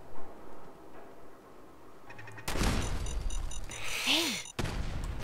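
Gunfire in Fallout 4 bursts out after a quiet start, a loud rattling volley lasting about two seconds with a sweeping whine inside it, then cutting off abruptly.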